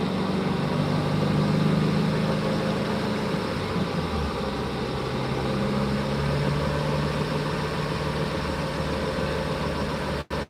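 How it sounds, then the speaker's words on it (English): A Cobb intercooled Subaru WRX running on a dyno, a steady droning engine hum heard from a distance through a cracked window, even and sustained before cutting off abruptly at the end. "Maybe you can hear the dyno noises and stuff."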